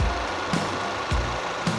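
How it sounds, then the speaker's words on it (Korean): A Chevrolet Malibu engine with about 60,000 km, heard up close in the open engine bay, idles at a steady hum with soft rhythmic thumps roughly every half second. "엔진 소리 한번 들어보도록 하겠습니다"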